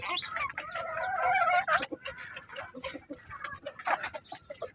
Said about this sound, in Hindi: ये मुर्गियां जो है कितने चाव से खा रही है टमाटर को